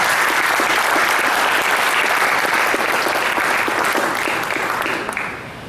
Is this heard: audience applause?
yes